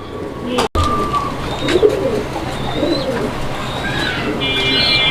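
Rajgolla pigeons coo at close range in a loud, busy setting where birds are being offered for sale, with repeated soft throaty coos, scattered chirps and a steady background din that includes some voices.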